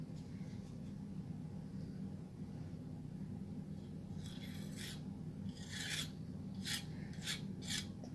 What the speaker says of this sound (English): you're not actually supposed to be able to hear the palette knife scraping across things